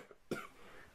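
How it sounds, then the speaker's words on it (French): A single short, soft cough, close by, in an otherwise quiet room. "j'ai une petite toux"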